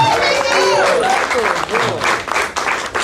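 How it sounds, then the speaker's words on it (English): Audience applause for the comedian Rico at an open mic night, a dense, steady wash of clapping that fills the whole stretch with voices mixed in. "One more time for Rico, everybody. Clap it up for him."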